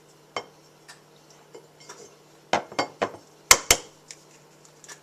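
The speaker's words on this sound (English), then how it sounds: "I've gotten a bowl out, and I'm just going to separate out the yolk" Eggshell taps and clinks against a bowl while an egg is separated by hand, a run of sharp clicks and knocks spaced irregularly, loudest near the end, close and alone with no talk.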